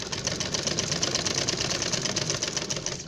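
Electric sewing machine stitching a ruffled baby frock, a steady close whirring hum with a fast rattling needle rhythm running continuously without pause.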